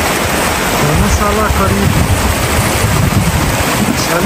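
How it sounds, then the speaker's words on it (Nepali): A river rushes steadily beside a high Himalayan campsite at about 4670 metres near Dharmashala on the Manaslu circuit trek, a loud continuous roar mixed with wind buffeting the microphone, while someone speaks briefly over it. "खोला बगिरहेछ"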